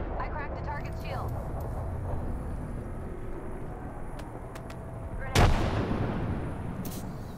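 A weapon fires in the video game Apex Legends, one sharp, loud shot standing out near the end over a constant rumble of game noise and voice chat.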